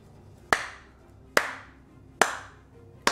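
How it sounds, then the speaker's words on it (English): Four sharp hand claps spaced about a second apart, each followed by a fading reverberant tail in a quiet room. "Clap just begins to echo around the room, hauntingly coming from everywhere and nowhere"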